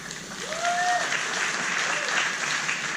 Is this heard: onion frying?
no